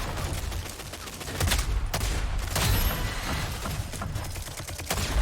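Rapid bursts of automatic gunfire from a Rogue Company firefight, dense overlapping shots rattling continuously with louder volleys in the middle and end.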